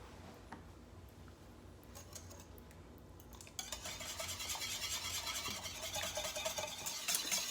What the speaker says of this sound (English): Mixing in well.